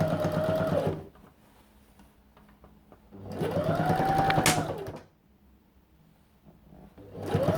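A sewing machine stitches a round neckline in two steady bursts of fast whirring, each a couple of seconds long, separated by quiet pauses, with a third run starting at the end; close and clear with no talking.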